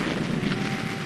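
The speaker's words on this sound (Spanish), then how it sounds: "Disparando cohetes." Rocket launches from the cockpit of the Supercar in the 1961 puppet adventure series, a continuous loud roaring rush with dense broadband noise that holds steady across the whole short burst.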